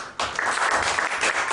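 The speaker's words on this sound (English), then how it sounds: "give her a round of applause" Audience applause at a live comedy mind-reading show, a dense burst of clapping starting abruptly and continuing steadily, fairly loud and close.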